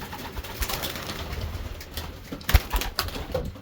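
A champion racing pigeon hen coos softly in a loft among other birds, with low repeated coos, faint rustling and a couple of brief thumps nearby.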